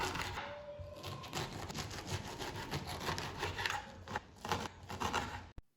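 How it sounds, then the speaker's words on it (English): A knife cuts through ugu leaves while an egusi soup cooks nearby, giving a steady run of close, rasping strokes with no one talking. "let's proceed to cut our vegetable, and for this recipe we are making use of ugu leaf"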